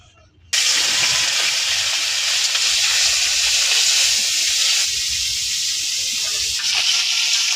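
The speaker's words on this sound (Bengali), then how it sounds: "মাছটা আস্তে আস্তে টানাই নিতেছে" Fish coated in salt and turmeric sizzles in a hot pan, a loud, steady hissing fry that starts abruptly and continues unbroken, close up, with no talk over it.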